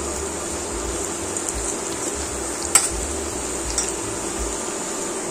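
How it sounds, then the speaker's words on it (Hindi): Chopped onion with a pinch of salt frying in a pan, a steady close sizzle with soft stirring scrapes and an occasional sharp clink, no talk. "ऑनियन को फ्राई करते करते अगर 1 पिंच के आसपास इसमें सॉल्ट डाल देंगे तो हमारा ऑनियन जल्दी फ्राई हो जाएगा।"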